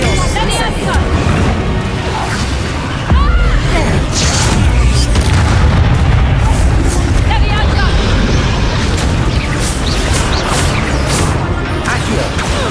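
Incendio fire spell cast in the Hogwarts Legacy video game, heard as repeated booming bursts and crashing impacts over a dense combat soundscape, with voices speaking throughout.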